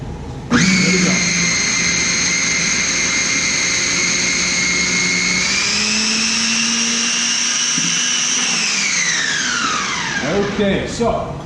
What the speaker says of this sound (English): while we're blending, is go ahead and add in the olive oil